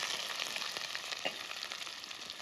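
Small chopped onions frying in a pan for palak paneer, giving a steady, close sizzle with crackling bursts throughout and no talking.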